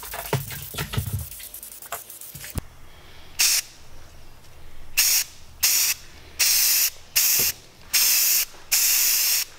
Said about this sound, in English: we need to spray paint that so that it's nice metallic silver color. So we're gonna spray all those pieces